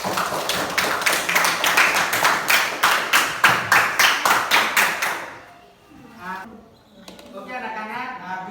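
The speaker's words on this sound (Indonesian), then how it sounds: "yang lain tepuk tangan dulu untuk Diki dan apa?" Classroom applause from a group of students, a dense run of rapid claps lasting about five seconds before a teacher begins talking.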